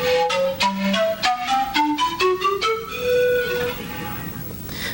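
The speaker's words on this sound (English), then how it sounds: "It's called zampoña, pusa also, and it's playing all the region of the Andes." An Andean zampoña, a bamboo pan flute, plays a breathy melodic run of separate notes stepping through the scale, close and clear with no talking.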